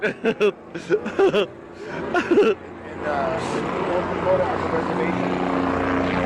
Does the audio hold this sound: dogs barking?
no